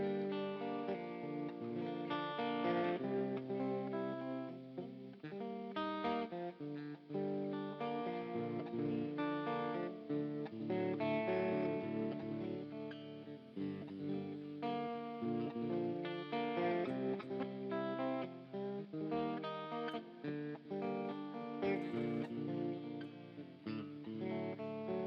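Electric guitar played through the ToneLib amp simulator on a metal distortion tone, a sustained stretch of heavily distorted riffing and chords, loud and continuous with no speech.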